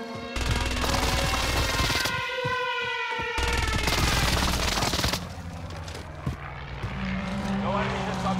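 Airstrike run in Call of Duty Warzone: a loud plane roar sweeps overhead with rising and falling tones, alongside gunfire and blasts, while radio-style voices speak over it.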